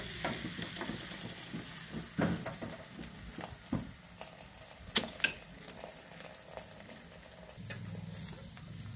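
Soft sizzling of a sweet stuffed puran poli flatbread cooking in oil on a hot griddle runs throughout, broken by occasional scrapes and light taps, close by and fairly quiet, with no voices.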